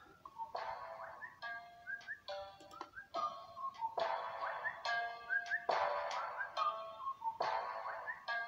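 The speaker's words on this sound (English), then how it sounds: "I've never heard this type of whistling before" Melodic whistling in a rap song, short gliding whistled notes riding over a ticking, clock-like percussive beat, clear and fairly prominent throughout.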